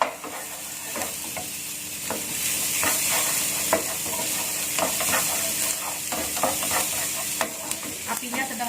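Chili and garlic sizzle steadily in a hot pan while a utensil scrapes and stirs them, giving irregular knocks over a constant frying hiss; cooking for a tuna curry puff filling.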